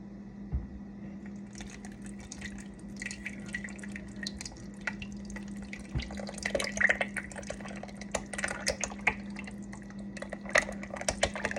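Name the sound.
liquid soap pouring and splashing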